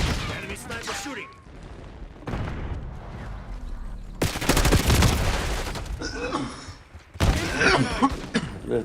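Gunfire bursts in Black Ops 6, including enemy sniper fire, come as loud dense volleys in two main stretches mixed with game sound, with voices talking over parts of the action.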